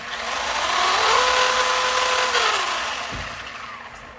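A Traxxas Rustler RC car's small electric motor, running on a 2S LiPo battery, whines loudly up close, its pitch rising and falling as it revs and then winds down.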